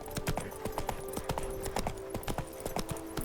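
Roach, Geralt's horse in The Witcher 3, trots with a steady, close clip-clop of hooves repeating throughout, a low ambient hum running beneath.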